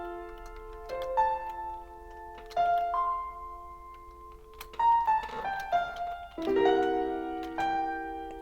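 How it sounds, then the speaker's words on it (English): Opening melody of Mozart's Piano Concerto No. 21 on piano, a light tune of separate struck notes in short phrases, played alone with clear pauses and decays between groups. "21st Piano Concerto of Mozart, which sounds something like this."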